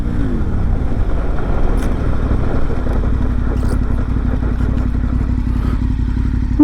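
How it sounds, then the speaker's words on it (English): Motorcycle braking hard from 100 km/h: a loud, continuous engine and road roar with a falling pitch sweep early on, plus scattered clatter and scraping over several seconds, and no talk. "Hit the line at 100 k's, jam the brakes on."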